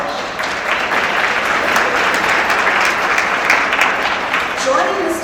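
An audience applauds a keynote speaker at a special education conference, a loud, dense, continuous wave of clapping that holds for several seconds before a voice begins near the end.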